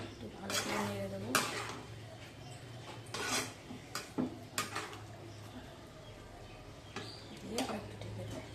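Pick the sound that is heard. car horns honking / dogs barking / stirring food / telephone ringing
stirring food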